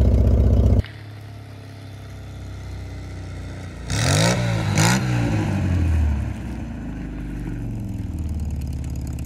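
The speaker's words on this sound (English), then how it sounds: "now we're gonna drive in the snow in a convertible" A 1963 Pontiac Bonneville convertible driving in snow: an engine idles low and steady, then a louder rise of revving in two surges before settling back to a mid-level rumble, with no talking.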